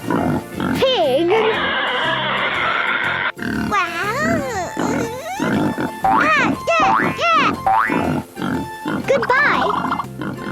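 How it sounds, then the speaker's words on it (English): A pig oinking and grunting in a rapid, loud series of squeals, snorts and nasal grunts, close and continuous with only brief pauses. "Pig."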